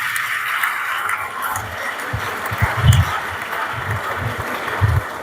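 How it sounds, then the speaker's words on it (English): An audience at an alumni mentorship gathering on a school campus claps in applause, a rough wash of hand claps with occasional louder thumps close by. "Please, a round of applause for them again."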